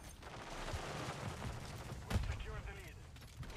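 Bursts of gunfire in Call of Duty MW3 multiplayer team deathmatch on the Lockwood map, a steady rattle of shots under game ambience, with a louder burst near the end and a voice talking over it.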